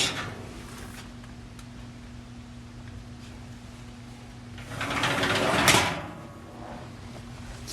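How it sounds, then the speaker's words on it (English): A pan drawer on a La Nordica Suprema cast iron wood stove slides with a single rough rolling scrape and soft knock near the end, close and fairly loud, over a steady low hum. "Pan drawer."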